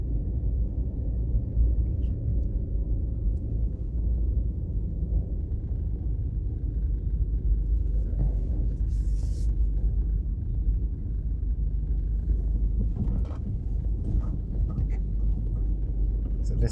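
A car drives slowly around a shopping mall complex in Jamaica, heard as a steady, continuous low road and engine rumble with faint incidental noises on top.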